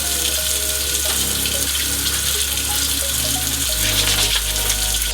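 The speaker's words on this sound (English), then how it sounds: "Now I'm going to go ahead and wash my hands" Tap water runs steadily into a sink during handwashing, a continuous splashing gush that shifts in tone as hands move under the stream, with no talking.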